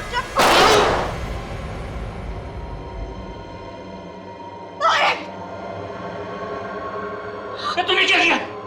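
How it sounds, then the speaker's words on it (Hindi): A sharp loud gunshot blast opens the scene in a crime drama, followed by tense quieter moments and two short vocal outbursts. "तेरे वजह से गोली चल गई।"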